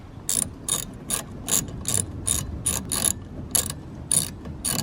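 A ratchet fitted with a 13mm socket and extension clicks in about a dozen quick, evenly spaced bursts while loosening car wiper arms, close up and crisp, with no talking.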